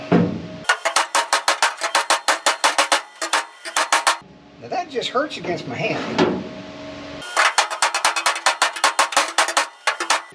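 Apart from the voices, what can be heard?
hammer striking car body sheet metal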